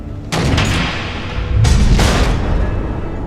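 Missile explosions in the video game Batman: The Enemy Within: two heavy booming blasts, each followed by a rumbling, crackling tail that fills the clip.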